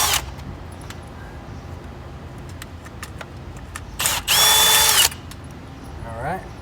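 A power drill pulls screws out in a short, loud whir of about a second. Faint clicks and background noise come before it, and a brief rising whine follows.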